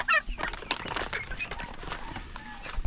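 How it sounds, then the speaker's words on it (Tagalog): A hen with nine newly hatched chicks clucks in a backyard, giving a few close clucks and thin peeping chirps amid rustling and scattered farmyard noise. "bagong pisa na inahin, meron siya ano, siyam na sisiw guys."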